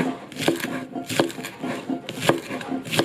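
Knife strokes on a cutting board finely shredding banana blossom, rapid clustered taps recurring in short bursts, close and fairly loud with no talking.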